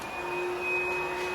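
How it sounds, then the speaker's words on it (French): A steady mechanical drone with a faint high whine, like a vacuum cleaner running nearby, continuous and unvarying. "avant que monsieur me coupe avec son aspirateur"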